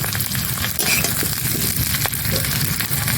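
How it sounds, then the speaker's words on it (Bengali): Fried papaya, potato and green banana pieces sizzling in oil while being stirred, a dense continuous close crackle with occasional soft scrapes, no talking. "সবজিটা ভাজা হয়ে গেছে, দেখতেই পাচ্ছেন কিরকম লাল করে ভাজা হয়েছে"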